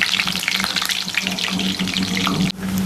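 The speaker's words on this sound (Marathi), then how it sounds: "तिथे लसूण आणि कढीपत्त्याची फोडणी देणार आहे" Garlic and curry leaves sizzle loudly in hot oil for a crab curry tempering, a dense crackling hiss that runs almost without break and dips briefly just before the end.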